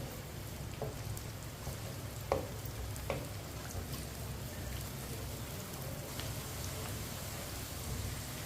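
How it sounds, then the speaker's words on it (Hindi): Finely chopped onion with cumin seeds frying in oil or ghee for aloo gobhi, a soft, steady sizzle with a few faint clinks of a spoon stirring. "प्याज को हल्का सा ब्राउन कर लेंगे, इसे चम्मच चलाते हुए ब्राउन करना है"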